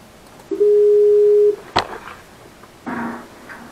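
A telephone call is being placed: one long steady tone for about a second, then a sharp click, followed by the start of another tone as the line rings, close and clear with no talk.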